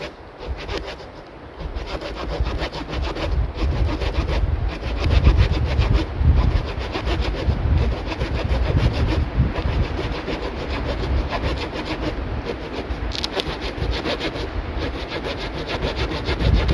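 A hand saw cuts through dry hazel wood outdoors in a winter forest camp, rasping in steady repeated strokes close to the mic, with wind noise underneath.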